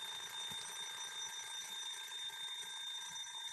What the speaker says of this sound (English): That's the kitchen timer. It won't shut up.